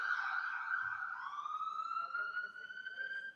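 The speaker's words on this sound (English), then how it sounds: "That was an ambulance," An ambulance siren passes at a distance, its wailing tone sliding down and then rising again, clear but fairly faint against a quiet background.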